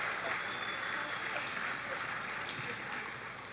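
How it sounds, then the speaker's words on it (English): Audience at a cosplay contest gives a steady round of applause, dense clapping from a sizable crowd that holds at an even level before easing slightly at the end, with no talking over it. "Can we give another round of applause?"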